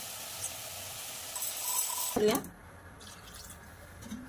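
Water pours briefly into a pot of chicken curry masala with a soft splashing rush that fades quickly, followed by quiet background clinks.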